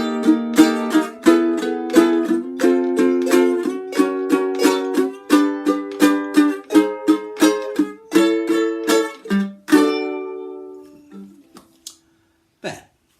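Strummed guitar chords work through the chord progression of a song in a steady rhythm of repeated hits, fairly loud and close, ending on a ringing chord and a final muted scrape.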